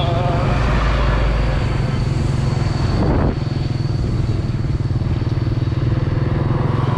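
A motorbike taxi rides along a road in Vietnam, its engine a steady close hum with wind rush, while another vehicle passes quickly midway with a brief rising-then-falling whoosh.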